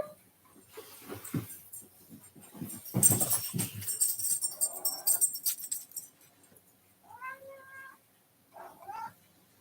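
A cat meows a couple of times near the end, short tonal cries following a stretch of rustling and handling noise.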